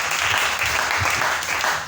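Church congregation claps together in worship, producing a steady, full burst of applause with a slightly rhythmic pulse, close and loud throughout.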